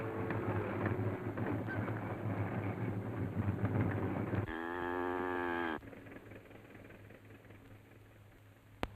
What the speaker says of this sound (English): Nice cattle.